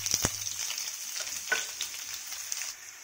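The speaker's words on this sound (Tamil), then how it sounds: "இப்போ எண்ணெயில் இது 1-2 நிமிஷம் வந்து நல்லா வதக்கலாம்." Onion fries in oil with lentils, curry leaves and garlic for a bitter gourd stir-fry, a soft, fairly faint sizzle broken by a few sharp taps and scrapes of stirring.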